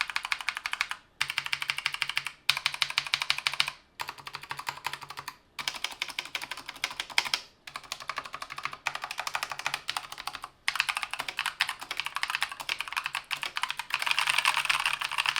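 Rapid, continuous clacking of keys on a tactile mechanical keyboard, typed in bursts with brief pauses between them, close and clear with no talking.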